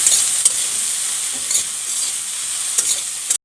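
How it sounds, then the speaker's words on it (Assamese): Raw green banana pieces fry with salt, turmeric and chili powder in hot oil, a loud, dense, continuous sizzle close up, with a few soft spatula knocks as the pieces are stirred. "এইখিনি বাৰু ভালদৰে ভাজি ল'ম।"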